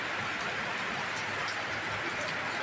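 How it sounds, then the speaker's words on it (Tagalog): Heavy rain falling outdoors in a residential area in the Philippines, a dense continuous hiss of drops hitting surfaces at steady loudness throughout. "Malakas ng ulan, no?"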